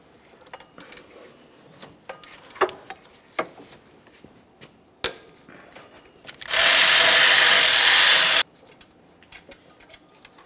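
A 12mm socket wrench loosens the lower alternator mounting bolt on a 2012–2015 Honda Civic 1.8L I4, giving scattered sharp metallic clicks and knocks, then a loud, steady, grinding ratchet burst lasting about two seconds.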